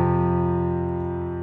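A single piano chord from a theme, an F voicing with an added C, is struck once, then rings out and slowly fades with no talking.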